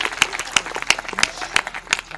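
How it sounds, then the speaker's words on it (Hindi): Audience clapping in unison at a Hindi comedy show, six sharp rhythmic claps about a third of a second apart over a light background of scattered hands. "जोरदार तालियां होनी चाहिए।"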